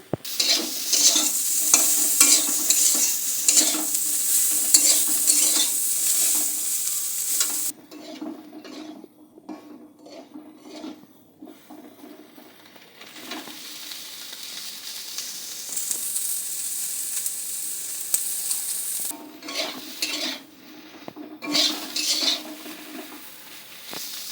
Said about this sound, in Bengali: সোয়াবিনগুলো লাল লাল করে ভেজে নিতে হবে